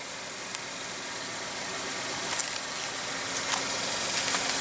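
A 2015 Buick Verano's 2.4 L four-cylinder engine idles with the hood up, a steady, even hum with a broad airy hiss over it and a few faint clicks, heard alone without talk.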